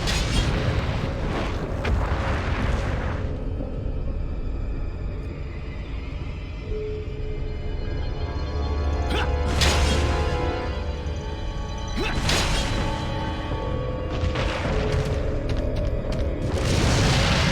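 Grenade blasts in the video game Resident Evil 4: a few heavy booming explosions with bursts near 1, 9.5 and 12.5 seconds and again around 15, loud over a busy game soundscape with music.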